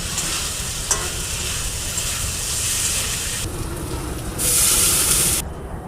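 Spice paste of green chilli, cumin paste, chilli powder and turmeric stir-fried for a fish curry, a steady close sizzle with scraping stirs, briefly swelling louder near the end with no talk.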